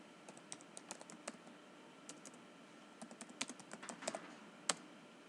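Someone types a Python program on a computer keyboard, producing quiet, irregular clusters of light key clicks with short pauses between bursts.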